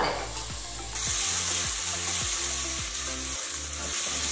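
Onions sweating and sautéing in a pan for lasagne, a gentle continuous sizzle with a faint low hum underneath, steady and moderately quiet with no speech.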